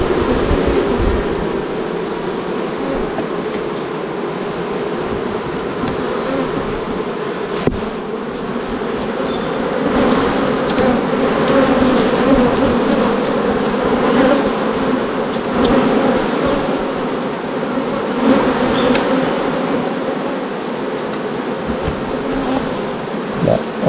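Honeybees swarm around an open, very active hive during a first honey harvest, a steady dense buzzing drone that stays loud and close for the whole stretch, with no voices over it.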